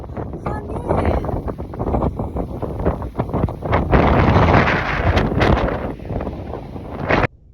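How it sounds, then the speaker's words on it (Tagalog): Strong wind on a mountaintop blasts and gusts straight into the microphone, a loud rough rumble that surges and falls for several seconds, then cuts off sharply. "Ay, ang sarap ng hangin dito talaga."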